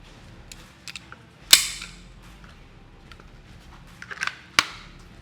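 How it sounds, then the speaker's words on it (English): Two sharp, loud gunshots crack out a few seconds apart as rounds are fired at a Bucks holster in a torture test, with faint clicks and small handling noises between them. "We're gonna shoot it again and we're gonna see if we can go right for that clip."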